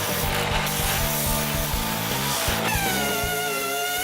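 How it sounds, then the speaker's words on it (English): Wood rubs against a spinning drum on a spindle sander in repeated rasping passes, sanding burn marks, with a steady motor hum and a rising whine near the end. "I use my spindle sander"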